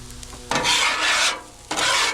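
A metal spatula scrapes across a hot Blackstone griddle, pushing bacon fat around in two loud, rasping strokes separated by a short pause, close up, with no voices.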